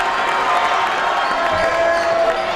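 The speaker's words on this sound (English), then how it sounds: "you hear the cheer from the crowd" Crowd at a high-school boys' basketball game between Centennial and David Douglas cheers steadily in a gym, a dense continuous roar with shoes and bounces mixed in, loud and sustained throughout.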